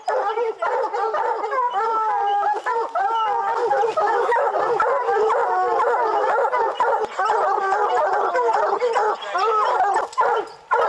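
Hunting dogs bay, howl and bark almost without pause, several animals overlapping in loud, close, wavering cries, with people talking faintly beneath.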